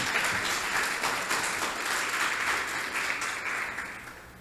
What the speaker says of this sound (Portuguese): Você pode aplaudir os atores.